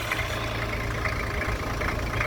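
A repaired 4WD engine runs at a steady idle, close and constant, with a low rumbling drone and no change in pitch or rhythm across the whole stretch.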